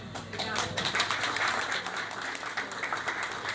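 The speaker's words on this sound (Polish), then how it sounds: "To są brawa dla pani doktor." Audience at a talk with a speaker for the Polish community in Chicago applauding, a dense steady patter of many hands, moderately distant, with a voice heard over it.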